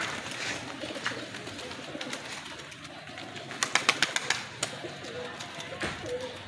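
Pigeons coo softly against an open-air background, with a burst of sharp flapping or clapping sounds midway.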